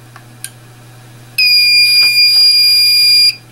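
A loud, steady electronic alarm from a 411 alarm dialer beeps continuously for about two seconds after a couple of faint clicks, then cuts off abruptly.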